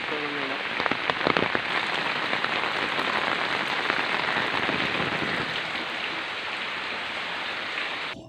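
Heavy rain falls in Idukki, Kerala, a dense, steady hiss of drops striking surfaces without a break, loud and close throughout.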